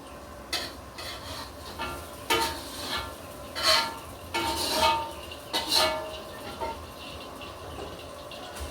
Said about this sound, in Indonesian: Terus masak sambelnya ya